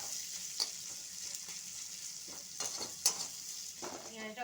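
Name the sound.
frying chopped onion with garlic paste and green chilli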